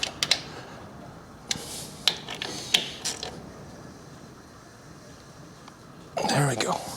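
A hand ratchet clicks in short bursts while tightening the inner primary bolts on a 1974 Harley-Davidson Superglide Shovelhead FXE to final torque, close and quiet, with a voice briefly at the end.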